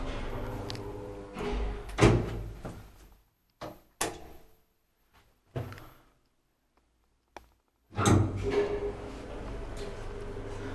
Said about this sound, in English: It's almost impossible to get inside, but I actually opened the door here.